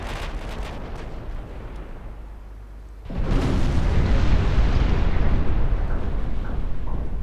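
A warship's broadside in a naval strategy game, a quieter stretch of distant firing then a sudden deep roaring blast at about three seconds that rumbles on loudly to the end.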